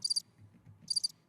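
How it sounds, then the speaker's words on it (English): Two short bursts of high cricket chirping, each a quick trill of three pulses, separated by a brief quiet gap over a faint low background. "Crickets."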